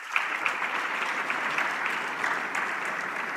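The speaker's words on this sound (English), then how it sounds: "Together, let's celebrate them with a thunderous round of applause." An audience at an African investment summit applauds, a sustained, even wash of clapping hands filling a large hall from start to finish with a few sharper individual claps standing out.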